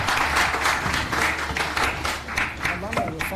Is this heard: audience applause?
yes